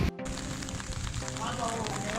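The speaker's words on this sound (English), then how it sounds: "You can hear the rain sound and the cloud sound also." Steady rain falls in Jeddah, Saudi Arabia, a constant broadband patter and hiss that continues without a break from start to finish, with a brief dropout near the beginning.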